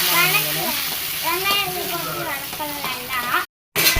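Onions sizzle and fry in a pan while cooking down for a chicken gravy, a constant crackling hiss under a voice speaking close by and a child's chatter, briefly cut off near the end.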